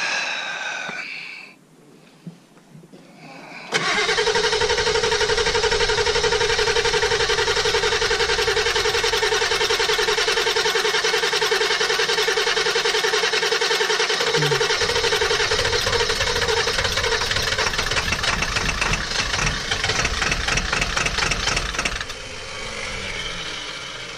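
A 1996 Ford E350 with a 7.3L Powerstroke diesel, just fitted with a new fuel filter and primed, is cranked after the glow plugs cycle. It catches abruptly and settles into a loud, steady, clattering idle for about twenty seconds before cutting back.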